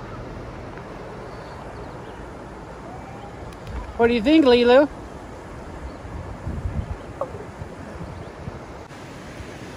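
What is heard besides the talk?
creek water flowing into a small reservoir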